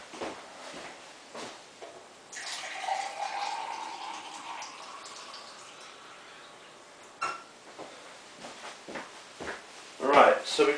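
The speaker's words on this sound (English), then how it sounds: "So I'm just going to get a glass of water." A glass being filled with water from a cold tap, a hissing gush of running water that rises and settles over several seconds, between clinks and handling knocks, with a person talking around it.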